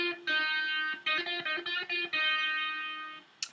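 Electric guitar lick from the section after the third verse, played on the third string with an effect-coloured tone, a short run of ringing notes played solo and up close.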